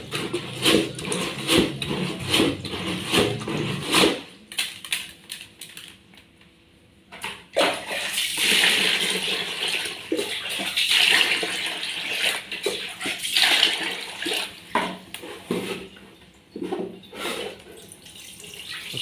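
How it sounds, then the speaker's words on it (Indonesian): Water is poured out and fresh water is scooped in with a dipper while rinsing rice for cooking. Loud splashing and pouring comes in uneven surges, with a sharp change partway through and no talk. "Buang dulu airnya, kasih air yang baru."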